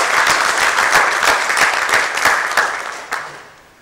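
A big round of audience applause at a maritime wellbeing presentation, with many hands clapping in a lively, uneven patter that stays loud and then tapers off near the end.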